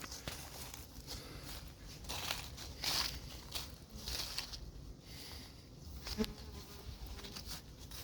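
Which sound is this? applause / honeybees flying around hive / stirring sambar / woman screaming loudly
honeybees flying around hive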